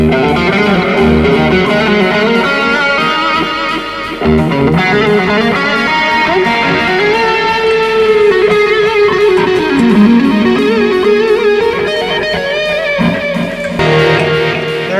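A sustained, distorted electric guitar lead tone from a BOSS eBand JS-10 plays continuously with heavy delay and reverb, notes washing into each other, loud and full throughout.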